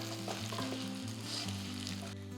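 Food sizzles steadily in a pan while it is stirred, a close, continuous frying hiss with a faint tonal hum beneath it.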